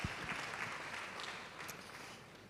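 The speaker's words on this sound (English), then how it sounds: "Applause for Dennis." A symposium audience at an anniversary celebration gives a speaker a round of applause. The clapping is faint and distant in a large room and slowly tapers off.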